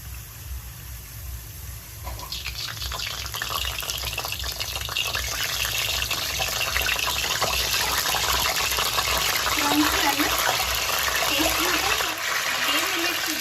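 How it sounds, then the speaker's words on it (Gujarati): Salted water sprinkled onto potato wafers frying in hot oil sets off a loud, sustained hiss and crackle that swells and holds close by for several seconds. "સહેજ આપણે પાણી છાંટીશું।"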